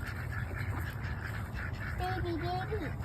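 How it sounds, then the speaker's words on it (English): Ducks at a park pond give a few quacks and squawks over steady outdoor background noise, while a person talks nearby. "Look at the baby duck."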